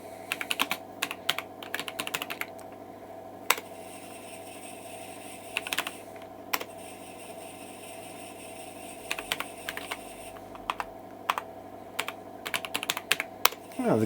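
Clicky keystrokes on the original keyboard of a Commodore PC 10-II computer come in quick irregular bursts with brief pauses, over a steady low machine hum and fan whine.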